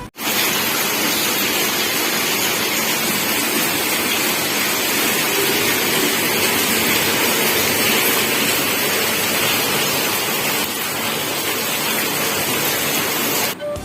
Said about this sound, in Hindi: देखुन बहुत जोर यहाँ वर्षा होछि